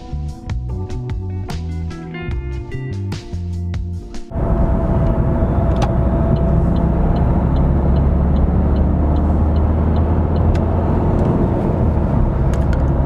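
An Opel Crossland drives along the road, its engine and tyre roar a steady, loud, broadband drone heard from inside the cabin, preceded by a few seconds of music.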